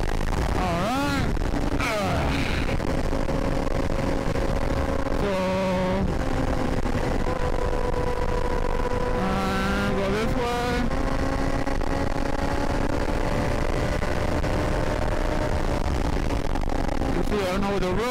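A 2004 Suzuki GSX-R 750 K4 with Yoshimura headers carries its rider along Texas back roads, its engine droning steadily, with gear changes and rising revs, close to the rider's microphone, while he speaks now and then over it.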